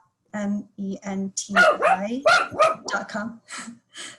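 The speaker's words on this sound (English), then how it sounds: "I hear someone's puppy there." A puppy barks repeatedly, picked up over an online call, a run of short yappy barks in quick succession, some rising into whiny yips.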